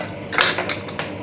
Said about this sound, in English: now we mince for a while